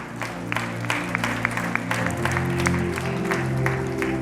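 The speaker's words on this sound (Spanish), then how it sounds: "Dale un fuerte aplauso al Señor" Congregation clapping in a church service, a brisk layer of hand claps with sharp individual hits riding over sustained organ or keyboard chords and a low musical bed.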